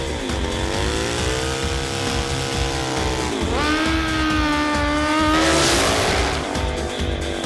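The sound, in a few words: drag racing motorcycle warm-up run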